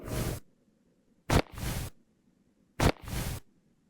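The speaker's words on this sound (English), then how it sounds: "That is the sound of a basketball bouncing on an outdoor court." Three sharp bounces of a basketball on an outdoor court, each a quick slap followed by a brief hissing echo, evenly spaced with quiet gaps.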